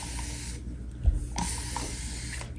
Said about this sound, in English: I just respray it.